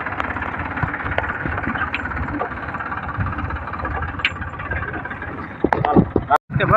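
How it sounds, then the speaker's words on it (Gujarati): A tractor loaded with wood runs with a steady, moderately loud engine drone as it pulls away, closing with a sharp knock and a brief drop-out. "તો ફાઇનલી હવે ટ્રેક્ટર ભરાઈને જાય છે"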